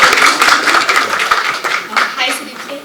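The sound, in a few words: applause at a press meet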